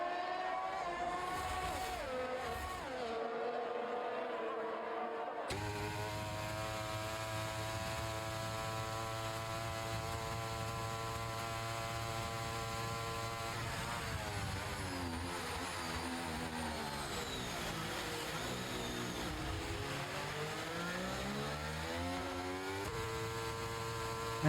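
Race cars scream down the main straight at Monza, a sustained high-revving engine drone with rising and falling pitch as cars pass and shift, several engines overlapping, loud and continuous.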